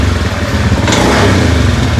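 A Honda Beat scooter engine running steadily and loudly up close, a continuous buzzing mid-pitched drone with slight rises in revs and no talking over it.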